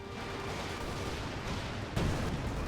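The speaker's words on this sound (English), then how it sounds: "Another Stuka barrage coming on in" Stuka dive-bomber barrage explosions in the Company of Heroes 2 war strategy game make a dense, continuous rumbling roar, with one sharper, louder blast landing near the end.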